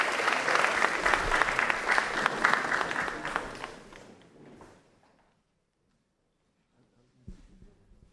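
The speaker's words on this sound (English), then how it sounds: "Let's welcome him with a round of applause." Audience applause in a cold lecture room welcoming the president of BPI to the stage, dense and fairly loud for about four seconds, then fading to silence, followed by a few faint bumps and footsteps.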